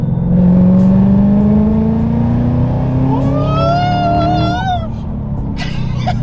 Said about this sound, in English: For 4th gear pull right now.